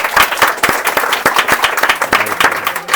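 Studio audience on a quiz show breaks into loud, dense applause, a steady wash of many hands clapping for three seconds with no talk over it.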